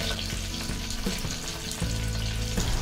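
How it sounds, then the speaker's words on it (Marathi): Garlic cloves and curry leaves frying in oil in a pan for Maharashtrian pithale, a dense, steady sizzle and crackle with occasional stirring scrapes, close and continuous, no voices. "लसूण हलका ब्राऊन झाल्यानंतर त्यामध्ये आपण घालू 7 ते 8 कढीपत्त्याची पाने."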